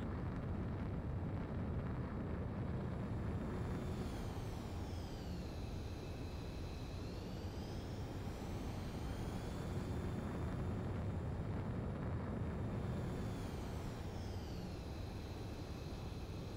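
In the video game Ace Combat 7, a jet aircraft takes off with a loud, steady engine roar and wind rush that carries throughout, its pitch sweeping up and down at intervals.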